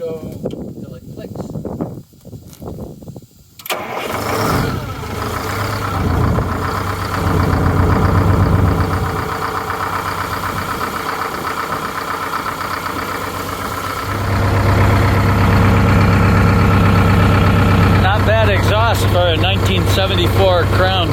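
A salvaged 1974 Crown bus engine idles steadily with a low, constant rumble and a droning tone after a brief quieter start. Talk continues over it and the engine grows louder toward the end.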